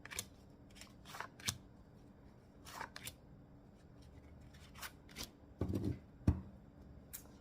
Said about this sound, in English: I'm just going to pull 4 cards out randomly